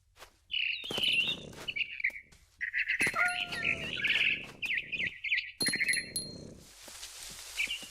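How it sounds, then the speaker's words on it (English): A barn swallow in the video game What Remains of Edith Finch gives bright, quick chirps and twittering calls in irregular bursts, close and clear, with brief soft rustles between phrases and no talk. "Then I heard chirping outside my window. It was a barn swallow going back to her nest."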